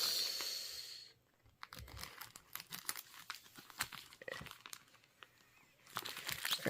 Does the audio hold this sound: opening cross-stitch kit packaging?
yes